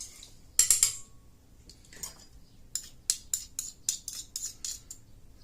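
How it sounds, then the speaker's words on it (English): A utensil stirs a low sodium soy sauce mixture in a bowl, giving a run of quick, bright metallic clinks and taps in close, rhythmic bursts. "And mix that in there"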